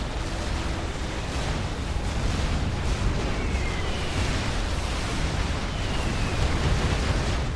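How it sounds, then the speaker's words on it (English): Bombing-run explosions rumble through a Supreme Commander 2 match, a dense, steady roar of blasts with no clear gaps, loud and sustained throughout. "big bombing run though"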